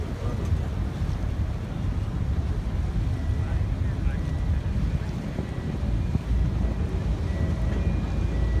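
Steady low rumble of a river boat engine turning on the Thames in London, with wind buffeting the microphone and water wash, continuous and close, with a voice faintly underneath.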